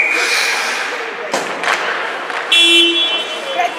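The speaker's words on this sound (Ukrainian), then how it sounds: "А что это за гудок?" Short horn toot at a women's hockey game, sounding as a steady tone for about half a second amid arena noise, thuds and voices.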